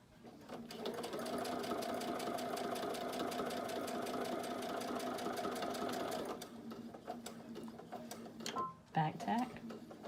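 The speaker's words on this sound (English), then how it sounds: "sew right on the edge of the folded fabric" A sewing machine stitches along the folded edge of a fabric face mask in a steady, rhythmic run of about six seconds, then stops, and a voice talks briefly afterward.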